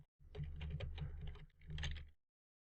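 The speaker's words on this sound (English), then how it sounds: "So if I just type some random hexadecimal numbers and letters" Typing on a computer keyboard: two quick bursts of rapid key clicks, close and fairly quiet, with a short pause between them and no talking.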